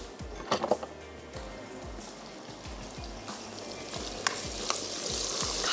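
Garlic and ginger sizzle steadily in a hot pan for a pav bhaji pasta dish, with a spoon stirring and scraping now and then, close and continuous with no talk.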